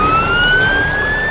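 Ambulance siren of a rescue team arriving with a crane truck, a loud, steady wailing tone that rises slightly over a constant engine rumble, close and continuous.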